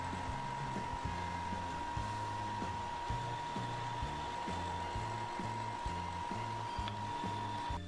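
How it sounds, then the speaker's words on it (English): A belt sander smooths the edges of a straw micarta composite knife handle, producing a steady, continuous motor whir with a rough sanding texture underneath. "I do take that back over to a belt sander, smooth all of the edges"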